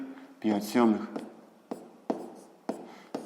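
A math solution is written by hand, with a short stretch of speech at the start followed by a series of distinct pen strokes and taps on paper, close and fairly crisp.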